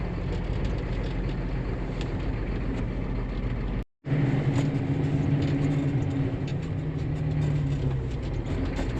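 A John Deere 7720 tractor engine runs with a steady loud rumble, briefly cutting out near the four-second mark before resuming its continuous drone.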